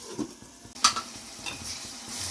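A spoon stirs onion and tomato in a pan, giving a few short scrapes and clinks over a faint sizzle, one sharper knock near the start, all fairly quiet and close.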